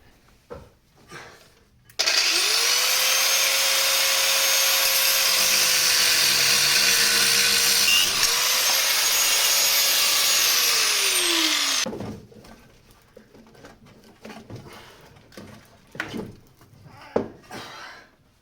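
A high-pitched power tool cuts through a sway bar link on a Mercedes A150 W169 front suspension, grinding loudly and steadily for about ten seconds, then spinning down into quieter workshop clatter.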